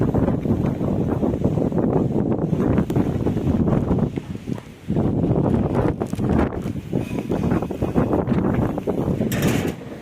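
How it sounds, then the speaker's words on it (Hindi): Strong windstorm gusts roar and buffet the microphone in loud, continuous rushes, briefly easing near the middle before surging again, with rustling in the background. "हवा वाला तूफान था जैसे अब ये है यार"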